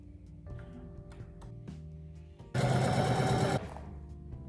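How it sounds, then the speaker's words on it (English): A sewing machine stitches fabric pieces for a knitting needle case in a single close burst of about a second, preceded by soft handling clicks and light background hum. "I sew these together and they look alright."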